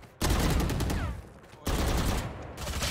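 Gunfire in a tactical shooter game, two loud sustained bursts of rapid automatic fire close and dense, separated by a short pause, with a player's voice talking briefly.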